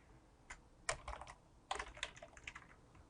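Quick bursts of typing on a computer keyboard during accounting software data entry, a few short clusters of light key clicks close by and fairly quiet, without speech.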